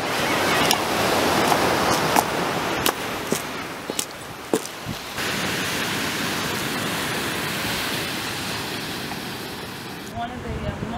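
Seaside surf in Nahariya, Israel, rushes as a loud continuous wash of breaking waves close by, with wind buffeting and a few sharp knocks over it.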